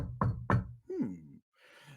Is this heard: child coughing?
no